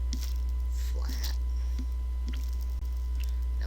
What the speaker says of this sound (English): when your solder is bubbling like that, it's just the flux bubbling out